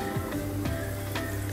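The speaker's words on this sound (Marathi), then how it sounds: "प्रॉन्सला तेल आपलं तापलं आहे, मग असं कोटिंग वरती द्यायची आणि ह्याला फ्राय करून घ्यायचं" Coated prawns frying in hot oil make a short burst of close sizzling, with a few bubbling pops and spatters rising over a steady hiss and no voices.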